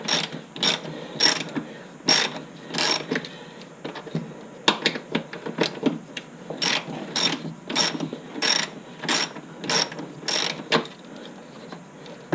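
A wrench ratchets on a bolt during a winch install on a Suzuki KingQuad 400 ATV, giving loud, close, rapid clicking bursts in an uneven rhythm with brief pauses between strokes.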